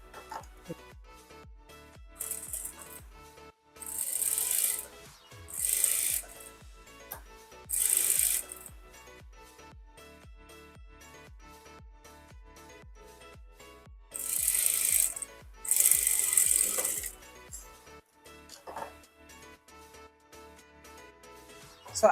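Stitching machine running in repeated bursts of fast mechanical whirring, separated by pauses filled with steady ticking clicks, close and moderately loud.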